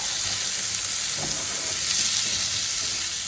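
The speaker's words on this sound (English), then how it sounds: "Now I put in some chopped tomatoes." Chopped tomatoes frying in a pan for a stuffed capsicum filling give off a steady, close sizzle with faint stirring scrapes and no talk.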